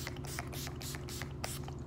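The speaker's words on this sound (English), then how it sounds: "All nighter, makeup setting spray," All Nighter makeup setting spray is misted onto a face in several quick hissing bursts, close and soft, evenly spaced, over a low steady background hum.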